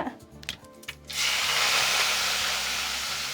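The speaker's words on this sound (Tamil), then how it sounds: "நாம் சேர்த்த கருவேப்பிலை இப்போ நல்ல எண்ணெயில் பொரிஞ்சிருச்சுங்க" Curry leaves dropped into hot oil in a cooking pan burst into a loud, sustained sizzling splutter after a moment of quieter clatter and speech.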